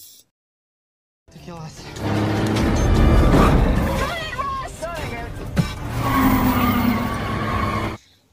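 Tires skid and a car engine roars during a film scene where a truck chases a car, a long screeching slide building over several seconds with engine noise and a sharp bang, mixed under a narrator's voice.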